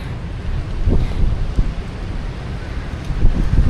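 Strong gusty wind along a seafront embankment in Vietnam buffets the microphone, rising and falling in bursts over a low constant roar, with no speech.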